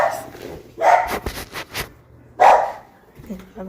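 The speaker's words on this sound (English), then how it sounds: "my dog was freaking barking at the neighbors" A dog barks at the neighbors twice, sharp and loud bursts a couple of seconds apart, with some softer whimpering or movement in between and a voice talking underneath.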